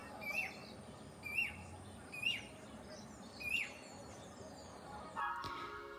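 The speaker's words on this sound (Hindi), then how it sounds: "एक चिड़िया बोल रही थी" Outdoors in Uttarakhand a single bird sings about four short, bright, distinct calls spaced roughly a second apart, faint over a low background hum, ending with a brief muffled rustle.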